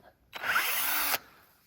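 A power drill bores a tap hole into a maple tree, one loud, even whine lasting under a second, starting and stopping abruptly outdoors with no talk.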